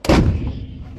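Artillery gun firing during a bilateral Marine live-fire range exercise, a single loud close boom with a sharp blast and rolling low decay.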